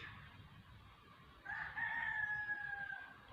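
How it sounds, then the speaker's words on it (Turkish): A rooster crows once in the middle distance, a long drawn-out call over quiet outdoor ambience. "Gördüğünüz gibi horozlar ötüyor."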